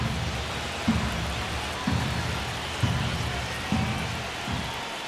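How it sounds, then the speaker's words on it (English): Rain pours during a baseball video game. A steady, moderate wash of falling rain is broken by a few soft, regularly spaced thumps. "It feels like we might be headed towards a rain delay if the weather doesn't ease up, Chris."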